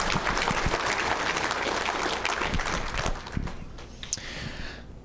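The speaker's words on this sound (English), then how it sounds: "Let's give Bill a round of applause, too" Audience applause fills a room at the Badger State (BSTP) banquet and awards ceremony, many hands clapping densely at first and thinning toward the end, with a few isolated claps and some faint crowd murmur as it fades.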